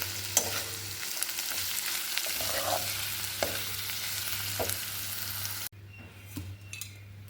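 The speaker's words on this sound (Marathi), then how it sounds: "यानंतर यामध्ये हिंग घालायचं आहे, त्यानंतर हळद घालायची आहे. हे छान असं परतून घ्यायचं." Asafoetida and turmeric stir-fried in a hot pan, giving a steady close sizzle with a few scraping stirs, quieter after a sudden drop near the end; no talking.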